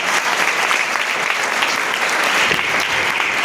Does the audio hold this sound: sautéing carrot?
no